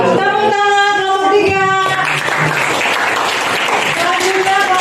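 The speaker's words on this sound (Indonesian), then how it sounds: "Tepuk tangan kelompok" Students clap for a presenting group in a school class, starting under a brief voice, then a dense burst of many hands applauding continuously to the end.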